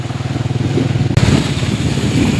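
A motorcycle rides through a rain-flooded street in Multan, its engine chugging loud and close in a steady pulsing rhythm. There is a brief jolt and surge partway through.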